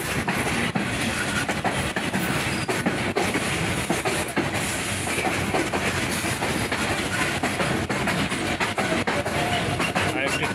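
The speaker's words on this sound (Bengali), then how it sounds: "এখন ট্রেন নাটোরে প্রবেশ করছে" A passenger train pulling into Natore railway junction in Bangladesh, with a continuous loud clatter of wheels on rails and a rumbling carriage noise heard close from inside the train throughout.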